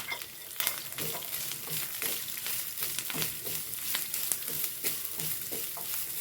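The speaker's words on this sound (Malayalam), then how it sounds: "നല്ലോണം വറുത്തെടുക്കുന്നുണ്ട്" Steady crackling sizzle of small onions and curry leaves frying in a pan, with scraping stirs and small clatters running throughout, close and fairly loud.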